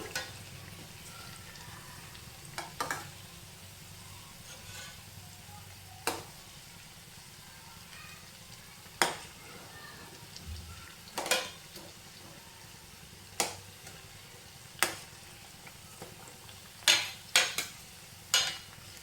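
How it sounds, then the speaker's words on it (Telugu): Jaggery murukulu fry in hot oil as they are turned: a soft, steady sizzle runs throughout, broken by sharp, intermittent clinks of a utensil against the pan, with no one speaking. "తిప్పుతూ వేయించుకోవాలండి అప్పుడే రెండు పక్కల సమానంగా వేగుతాయి అన్నమాట"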